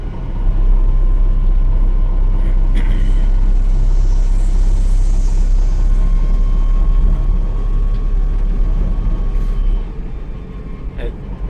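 A Miles electric pickup EV rolls along on a drive, its steady rumble of road and cabin noise loud and constant before easing near the end, with a faint whine in the background.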